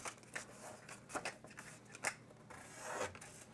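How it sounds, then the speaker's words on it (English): A folded paper score line is burnished for a mini album, making short rubbing and scraping strokes in quick uneven bursts, close and fairly quiet. "fold and burnish it"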